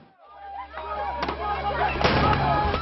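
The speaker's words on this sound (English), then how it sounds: "We've been hearing loud gunfire." Several sharp bangs and cracks of militants' gunfire during the 26/11 attacks ring out over a low rumbling background, irregular and fairly distant, with reverberant echoes.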